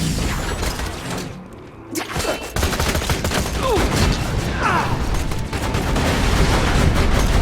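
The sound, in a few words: turret gunfire in Borderlands 2 video game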